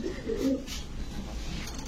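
Pigeons being sold at a market stall coo in low, throaty bursts, the calls strongest in the first half and then fading into a steady murmur of background noise.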